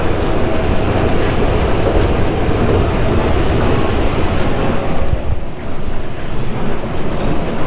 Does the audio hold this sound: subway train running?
yes